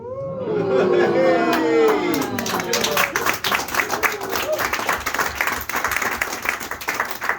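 Audience applause breaks out at a cabaret show, a dense wash of clapping that starts after a voice talks briefly and continues steadily to the end, with chatter mixed in.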